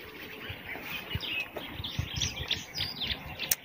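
Birds chirping outdoors in a natural spot in Nanyuki, Kenya, faint scattered tweets and calls at a distance over soft rustling and low thumping handling noise.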